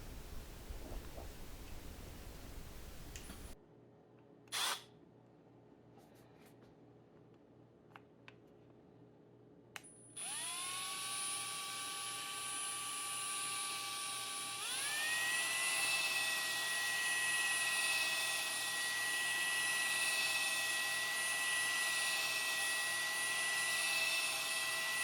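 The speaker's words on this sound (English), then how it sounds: "I prefer to use a drill personally." A power drill mixing whole wheat sourdough whirs up to a loud, steady whine after a quiet stretch, then shifts pitch higher and keeps running continuously up close.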